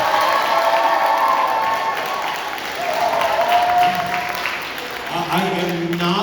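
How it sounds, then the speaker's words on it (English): Audience applause and cheering from a crowd at a graduation hypnosis show, greeting the sumo wrestler Toshiro; a steady wash of clapping with voices mixed in and some tonal murmuring toward the end. "give him a huge round of applause"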